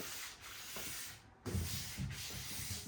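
Light scuff sanding on a stained wooden furniture piece makes a soft, continuous rubbing hiss in steady back-and-forth strokes, close and alone.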